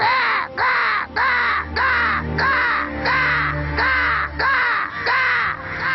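A man imitates a crow, giving a steady series of about ten loud, harsh caws in an even rhythm close to the listener, with no other sounds between them.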